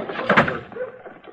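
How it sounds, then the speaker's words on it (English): Door in a 1950s western radio drama, opened and closed as a brief sound effect: a short knock-like thud and rattle, followed by quieter shuffling, with no talking. "He's going out the door, Matt."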